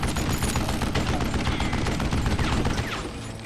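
Rapid, dense gunfire rattles nonstop during a shootout in the Western video game Call of Juarez: Gunslinger, loud overlapping shots filling the whole moment.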